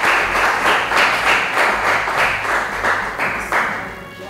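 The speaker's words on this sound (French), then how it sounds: "Merci de l'applaudir" A TV studio audience applauds, a dense, loud burst of many hands clapping in uneven waves of rising and falling intensity, with no voices.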